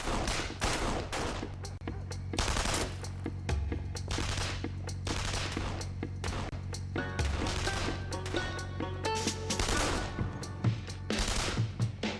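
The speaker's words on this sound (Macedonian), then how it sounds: "Командиру, тие пукат во воздух." Repeated bursts of gunfire fired into the air outdoors in a tense standoff scene from a Turkish drama, loud cracking volleys and fusillades in an irregular rhythm throughout, with no talk over them.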